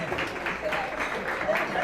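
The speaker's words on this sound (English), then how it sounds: "Give her a hand of applause." Audience applause at a women's excellence awards ceremony, a steady dense wash of clapping filling the room throughout, with some crowd voices mixed in.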